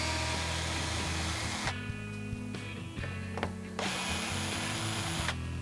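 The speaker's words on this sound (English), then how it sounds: "We're going to use our drill with the bit." A power drill with a T25 Torx bit drives out the back panel screws of a 2015-2017 Ford F150 tailgate, a steady loud whirring with ratcheting clicks that cuts out briefly and resumes, close to the source.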